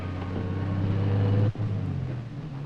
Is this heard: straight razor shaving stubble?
no